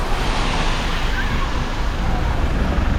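Floodwater of the Mekong River in Laos during the wet season, rushing in a dense, continuous roar like heavy surf, loud and close, with wind buffeting the microphone throughout.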